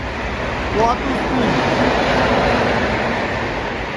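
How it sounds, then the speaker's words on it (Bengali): A goods train rolls past close by in a dense, steady rumbling roar with a brief voice heard early. "গুড ট্রেনটা যাচ্ছে দেখো"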